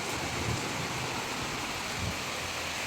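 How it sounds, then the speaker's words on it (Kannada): Heavy rain pours down in Mangaluru as a dense, continuous roar of falling water, loud and unbroken throughout, with no one speaking. "ಸಖತ್ತಾಗಿ ಮಳೆ ನೋಡ್ಬೋದು"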